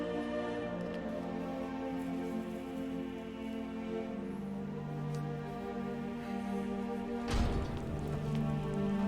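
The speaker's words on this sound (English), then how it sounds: "I hope the rain stopped." Steady rain falls in The Elder Scrolls V: Skyrim, a continuous even patter with a low ambient bed and no talk, briefly joined near the end by a short louder burst.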